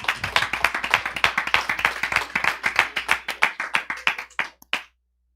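A small audience claps at a class on investing, sharp separate claps in a brisk uneven rhythm that thin out and stop near the end.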